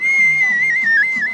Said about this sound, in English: handmade whistles made from clay can be sampled and bought at the festival